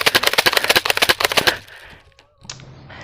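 Airsoft guns fire a rapid burst of sharp, closely spaced cracks during a skirmish, then stop abruptly, leaving a few faint clicks and quiet background.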